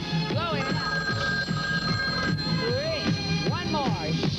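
A telephone in a film scene rings in repeated bursts, its bell tone recurring at a regular rhythm, with other sounds mixed in under the rings.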